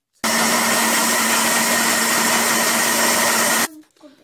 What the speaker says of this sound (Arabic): هنبدأ نضرب كل ده مع بعض في الخلاط